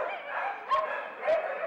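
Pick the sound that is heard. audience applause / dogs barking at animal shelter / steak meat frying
dogs barking at animal shelter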